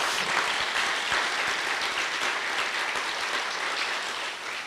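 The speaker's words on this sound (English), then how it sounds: "And Brad Smith, can you give these three amigos a round of applause for their great effort?" Audience applause at a 2017 summit governor's address, a dense, steady wash of clapping from a large crowd that holds evenly throughout without voices.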